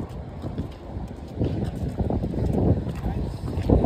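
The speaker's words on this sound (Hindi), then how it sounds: "बहुत ज़्यादा तेज़ हवाएं भी चल रही है" Strong wind blows at the Bandra Fort seafront in Mumbai, a loud rumbling gusty roar buffeting the microphone that rises and swells toward the end, with no talk.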